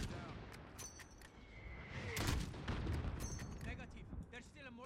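Gunfire in the Call of Duty: Modern Warfare campaign mission Highway of Death comes as scattered shots and booming bursts, fairly faint overall and spread across five seconds.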